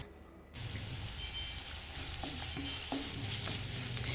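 Pasta with garam masala is stirred in a pan, a continuous sizzle under light scraping and clinking of the spoon, starting abruptly after a brief quieter moment.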